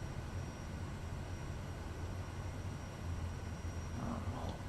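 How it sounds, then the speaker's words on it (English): A Kodiak 100 aircraft taxis with a steady, faint engine and propeller drone, a continuous low rumble with a thin whine above it. "While we're taxiing down."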